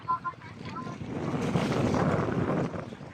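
A boat pounds through strong waves off Zambales, wind roaring into the microphone and water surging, with a few shouted voices early on.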